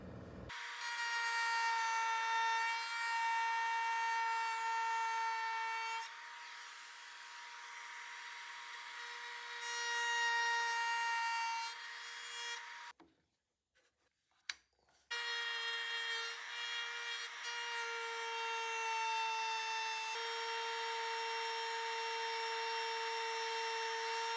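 Wood is sanded on a dresser being converted into a kitchen island, a steady, loud abrasive whine with tonal ringing from a power sander, running continuously, pausing briefly around the middle, then resuming.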